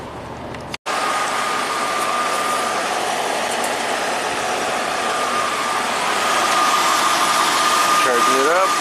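A Cadillac engine idles steadily with a constant whine riding over the hum while the A/C system is charged, a brief dropout near the start, then a rising squeal toward the end.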